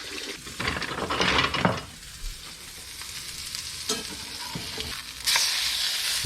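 A chickpea burger patty sizzling in a pan, bursts of louder frying and scraping as it is flipped with a spatula, then a calmer steady sizzle and a sharp spit near the end.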